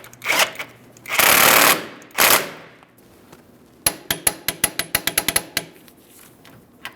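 A wrench snugging a rear suspension link bolt on a 2005-2010 Chrysler 300 5.7L V8: two loud buzzing ratchet bursts, then a quick run of evenly spaced sharp clicks close up, no voices.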